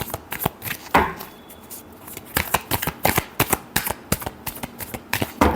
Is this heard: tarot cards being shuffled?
yes